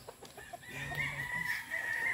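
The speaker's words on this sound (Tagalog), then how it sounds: "Daming manok." Chickens cluck and roosters crow at a gamefarm, several birds overlapping in a steady, fairly close barnyard chorus with one rooster's crow rising through the middle and no talk.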